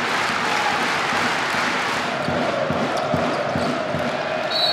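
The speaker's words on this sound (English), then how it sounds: "So everyone's standing to clap because Frederick Fort played in the number" A packed arena crowd at a Limoges CSP versus Unics Kazan basketball game roars and claps in a steady, dense wash, with a basketball thudding on the court in a loose rhythm beneath.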